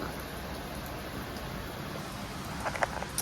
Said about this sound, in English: Oh wow. It is raining.